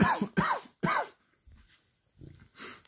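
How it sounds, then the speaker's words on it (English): Three sharp coughs in quick succession, close and fairly loud, followed by softer breathy sounds and a faint cough-like noise. "Sorry, I'm coughing because I'm laughing too hard."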